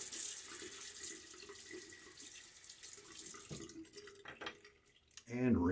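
Tap water running into a sink for rinsing after a wet shave, a steady splashing stream that thins out midway and is followed by closer, louder splashing, with someone speaking.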